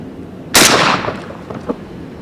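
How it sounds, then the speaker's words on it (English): A Panzer EGX500 12-gauge shotgun fires a single loud outdoor blast of 00 buckshot through a full choke, and a short ringing tail and faint echoes follow. "Double aught buck from a distance of 12 steps with a full choke."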